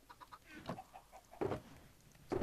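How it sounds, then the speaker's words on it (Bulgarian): Chickens on a chicken farm in the game Minecraft cluck in short, repeated bursts, a few soft calls followed by two louder clucks, close by and with no talk over them. "Ферма за кокошки."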